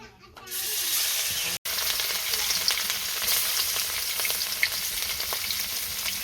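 Fish sizzles loudly in a hot pan, a dense steady crackle that starts after a brief quiet moment, cuts out for an instant, then carries on with small pops and scrapes of stirring.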